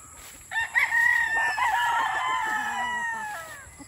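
A white kelso gamefowl rooster crows once nearby, a loud drawn-out call lasting about three seconds that trails off, over faint background noise.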